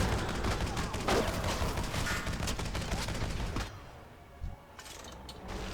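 Suppressive gunfire in World of Warcraft's Grimrail Depot, a dense, continuous barrage of rapid shots that cuts out after a few seconds and leaves a quieter stretch with a faint thump.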